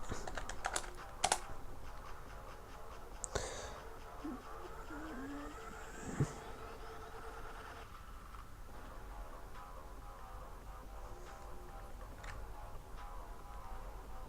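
Computer keyboard typing during game-engine work, a few soft clicks and taps at the start then sparse keystrokes, faint and close against a steady low room hum, no talking.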